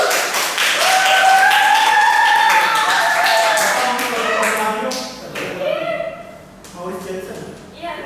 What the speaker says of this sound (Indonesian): Ya, bisa dikasih tepuk tangan dulu.